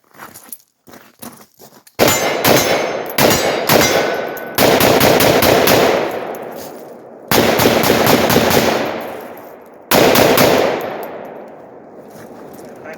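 AR-47 rifle firing 7.62x39 rounds outdoors, loud rapid single shots in several bursts with pauses between, each strings of sharp cracks, up close with ringing tails.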